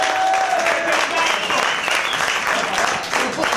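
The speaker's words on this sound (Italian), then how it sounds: "Ragazzi, un applauso al capo, dai!" Lively clapping at a laundry company's restaurant party as staff cheer their boss, loud and close with a few voices and whoops mixed into the sustained applause.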